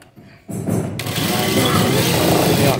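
An industrial sewing machine in a garment factory starts up after a quiet moment and runs steadily, a loud close mechanical whir and rapid stitching rattle filling the rest.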